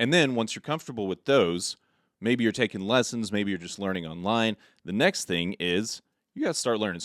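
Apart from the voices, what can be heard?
No distinct noise like a dog, phone or traffic.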